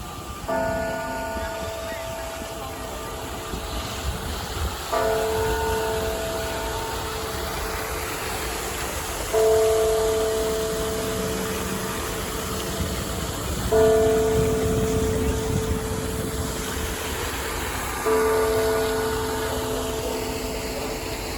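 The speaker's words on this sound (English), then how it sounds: "let's take a listen to the bells here" Church bells ring in downtown Toronto in a slow repeating pattern of clear tones over a steady roar of city traffic and street noise, on a Saturday early evening.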